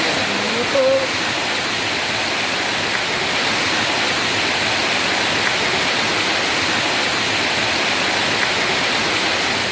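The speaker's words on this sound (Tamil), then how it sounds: "கோவை வடவள்ளி ஐஓபி காலனி சாலை மழைநீரில் அடித்துச் செல்லப்பட்டதால்" Floodwater from heavy rain pours over a washed-out colony road in Vadavalli, Coimbatore, a loud, unbroken rushing roar that holds steady throughout.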